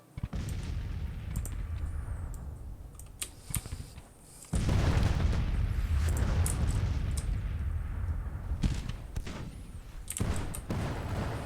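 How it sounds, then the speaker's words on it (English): Artillery shelling in a Civil War strategy game set at the First Battle of Manassas: a dense, rolling barrage of low booms and cannon blasts, louder and heavier after the first few seconds, continuing throughout with no talking. "we're shelling these guys for all we're worth"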